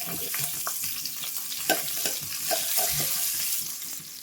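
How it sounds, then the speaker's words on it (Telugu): Dried red chillies, garlic and cumin stirred in hot oil for sambar, a steady sizzle with repeated scraping clinks of a spoon against the pan, close and continuous. "ఎండుమిర్చి వేయగానే ఎల్లిపాయ, జీలకర్ర కూడా వేసి బాగా మంచిగా కలపండి"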